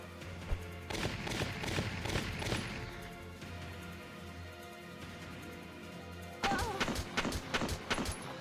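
Muffled gunfire from the Valkyria Chronicles Remastered battlefield comes in two clusters of quick shots and thuds, fairly faint and set against a low background drone.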